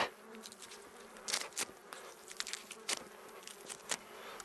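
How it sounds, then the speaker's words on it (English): Flies and wasps buzz around a deer carcass being butchered, a close, continuous insect drone with louder passes as they fly near. "Get rid of some of those flies and wasps."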